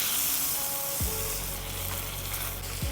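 Tenderloin steak sizzles steadily in a hot pan over medium-high flame, a continuous loud frying hiss with brief shifts as the meat is moved, no voices.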